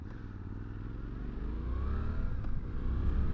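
A 2023 Suzuki V-Strom 800 DE parallel-twin motorcycle engine rumbles steadily nearby, its low throb swelling slightly as revs climb off idle, heard alone without talk.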